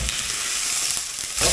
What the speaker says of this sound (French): On va pas oublier le steak là qui est en train de rendre l'âme une deuxième fois